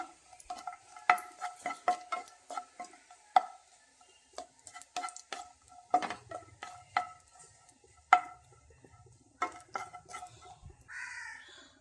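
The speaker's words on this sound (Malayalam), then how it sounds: "അതിലേക്ക് കുറച്ച് കാഷ്നട്ട് ഇട്ട് കൊടുക്കാം കുറച്ച് ഉണക്ക മുന്തിരിയും ഇടാം ഇതൊന്ന് വഴറ്റി കൊടുക്കാം" Cashew nuts and raisins sautéed in a pan, giving repeated close stirring scrapes and taps of a spoon against the pan with a light sizzle underneath, irregular and mostly alone.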